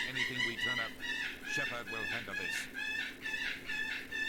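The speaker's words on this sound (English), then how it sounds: "Apologies for the birds screaming in the background." Birds squawk and shriek repeatedly in loud, rhythmic bursts, close and high-pitched, over a voice speaking lines from the game Mass Effect.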